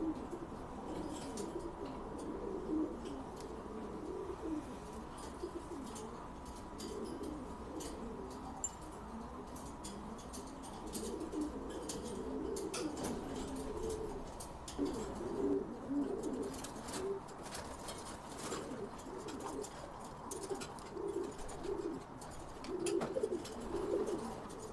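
Pigeons kept in a home loft coo in low, repeated rounded calls that overlap steadily at moderate distance, with faint chirps and occasional wing flutters mixed in and no talking.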